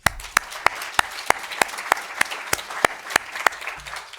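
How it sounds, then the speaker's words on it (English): An evening symposium audience applauds volunteers. A close, evenly spaced run of sharp claps beats over a steady bed of crowd clapping. "I would like to give a round of applause for all the volunteers and hard workers that we have out there tonight."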